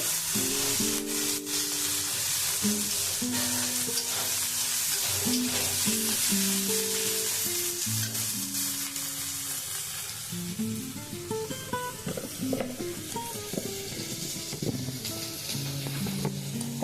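Onions fry in a pan with a constant sizzle and occasional stirring scrapes, partly masked by tuneful background music throughout.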